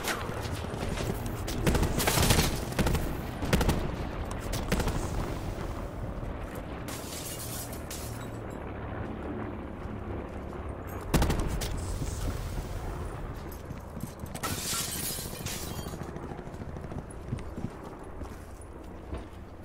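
Gunfire in Call of Duty: Blackout, a battle royale shooter: dense bursts of shots and impacts in a continuous stream, with a loud cluster near the start and another mid-way, over steady game noise.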